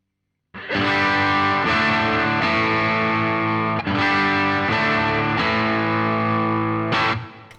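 Electric guitar through a boutique tube amplifier with the tone control turned fully up, playing loud sustained distorted chords that ring out with added gain but little harshness, restruck a few times before fading out.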